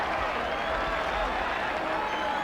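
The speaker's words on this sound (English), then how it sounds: "And the crowd is delighted." A rugby crowd at a 1983 Newbridge versus Japan match roars and applauds after a try, a loud, broad, sustained wash of cheering.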